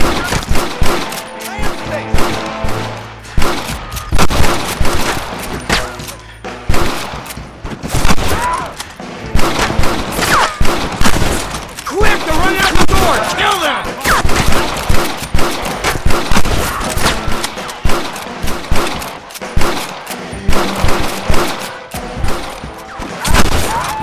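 Dense gunfire from a Red Dead Redemption shootout with snipers in a window, rapid overlapping shots and heavy bursts filling the scene nearly without pause, loud and close, with shouted voices mixed in.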